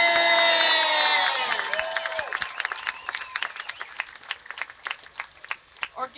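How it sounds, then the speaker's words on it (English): A rally crowd gathered outdoors in Orlando before a march against Monsanto cheers and whoops at first, the voices fading over a couple of seconds into scattered, uneven clapping that trails off with individual claps standing out. "You all should applaud yourselves"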